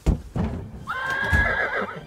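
A horse whinny rings out from inside a gift box: a clear, drawn-out neigh that wavers and trails off, following a couple of short thumps.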